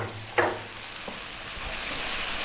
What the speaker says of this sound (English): we really need to kind of cook this tomato paste out